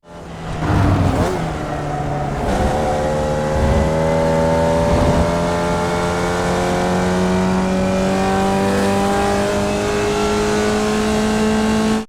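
A Formula Vee race car engine in the iRacing simulator at full throttle, starting with a sharp burst, dipping on shifts, then climbing in a continuous loud buzzing drone that rises steadily in pitch.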